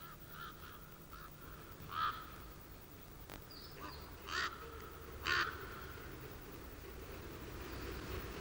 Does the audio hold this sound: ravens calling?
yes